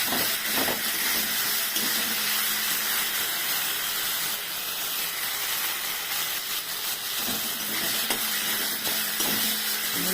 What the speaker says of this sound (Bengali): দেখো মশলাটা পুরো ভাজা হয়ে গেল, তেল ছেড়ে দিচ্ছে।